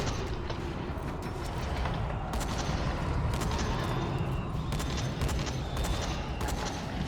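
Shotgun blasts and combat noise in the zombie video game Dying Light, a dense, loud wash of game sound broken by several sharp bursts of gunfire.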